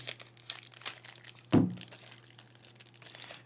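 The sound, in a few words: crinkly plastic wrap on a Star Wars deckbuilding game box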